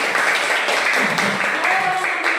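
Students in a Christian religious education class clap their hands together, a dense, steady patter of many hands filling the room at a moderate level.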